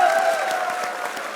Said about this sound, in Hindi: मोहम्मद आमिर के लिए तालियां।